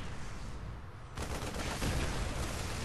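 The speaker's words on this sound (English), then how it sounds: "Tanks getting off a free shot on the infestors." Sieged tanks in the video game StarCraft II open fire during a battle against infestors, a sudden heavy burst of booming blasts that starts a second in and keeps rumbling over a steady background.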